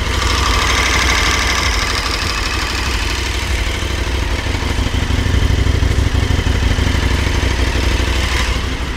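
A KTM 1290 motorcycle engine idles close by with a steady, throbbing mechanical rumble and clatter, continuous and loud, with no talking.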